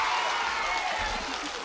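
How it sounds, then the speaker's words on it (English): A crowd of children and adults at a diplomatic corps children's Christmas party applauds, a dense steady burst of clapping that carries on evenly from start to end. "Let's give Alf a big round of applause and thank him."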